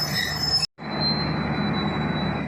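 Awam Express passenger train pulling away, a loud steady rumble of wagons and wheels with a thin high wheel squeal, broken by one brief dropout.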